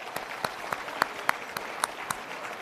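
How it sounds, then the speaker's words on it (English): A round of applause for a sponsor at a forum event, sparse and fairly quiet, with a few distinct, evenly spaced claps standing out over a soft background of clapping. "So let's give them a round of applause"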